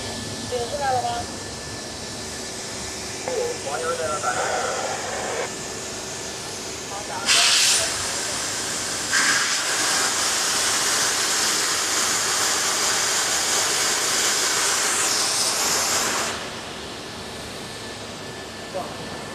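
Steady loud hiss of an SF3015H high-power fiber laser cutting machine slicing sheet metal, starting and stopping in long bursts between quieter machine movements and short motor whirs.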